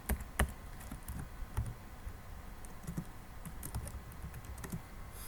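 Close, fairly quiet computer keyboard typing, a steady patter of light key taps with a few sharper strokes, heard alone without talk.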